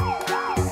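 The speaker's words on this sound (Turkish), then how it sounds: "Polis arabasının sirenleri çaldı." A toy police car siren wails in a short rising-and-falling electronic tone, loud and close, with no talking over it.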